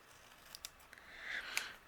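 Scissors trim a paper sticker in a few quick, faint snips and a soft slicing cut, close and quiet, with no voices.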